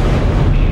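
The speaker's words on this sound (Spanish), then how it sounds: "se escuchó un disparo que quedó registrado en esta grabación" A single gunshot from a sniper ring out inside a church during a sermon, caught in a loud, dense, booming burst that fills the whole short moment with low rumble.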